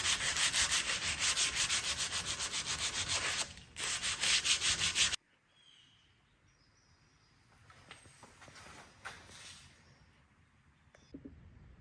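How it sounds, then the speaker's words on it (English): Steel being sanded off with 100 grit sandpaper, a loud rapid rhythmic scraping for about five seconds that stops abruptly, followed by quieter background with faint knocks. "This is just 100 grit sandpaper, but it's gonna get the steel off as well."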